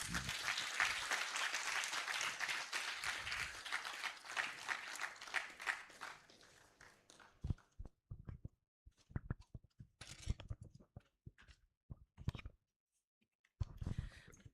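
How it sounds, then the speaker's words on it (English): Audience applause at a national democracy conference, a dense, steady wash of clapping for about seven seconds that thins into scattered individual claps and quiet pauses with faint voices. "Another round of applause, please."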